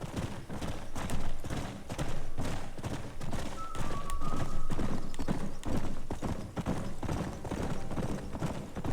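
Rapid, steady hoofbeats of a galloping horse in Red Dead Redemption clatter throughout, with a brief whinny partway through.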